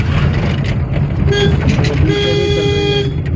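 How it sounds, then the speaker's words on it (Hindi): Two car horn honks, a quick one then a longer held blast, ring out over a rumbling engine, with faint voices mixed in. "फिर से हॉर्न दो"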